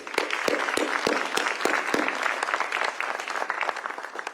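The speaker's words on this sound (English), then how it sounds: "I think we should give a round of applause to the entire General Assembly who supported this project" A crowd at a museum preview event for a dinosaur exhibit in Raleigh applauds. The clapping is dense and sustained, fairly close and loud, with distinct sharp claps cutting through.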